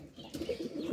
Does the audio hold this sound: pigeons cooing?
yes